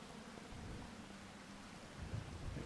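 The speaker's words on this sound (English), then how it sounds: "shall I stand under here because it's raining?" Rain in the farming game Farming Simulator 25, a faint, dense, steady hiss with low rumbling underneath, swelling slightly near the end.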